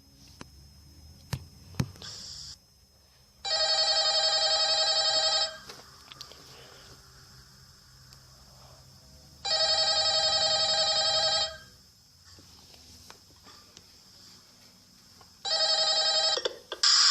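Telephone ringing in the Five Nights at Freddy's video game: three loud electronic ring bursts, each a couple of seconds long, separated by quiet gaps with faint clicks.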